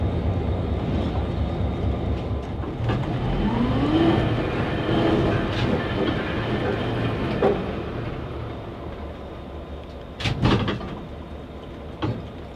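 A Southern Railway GP30 diesel locomotive hauls a train ride with a steady rumbling engine drone and rolling rail noise, joined by a rising whine and a few sharp clanks and knocks near the end.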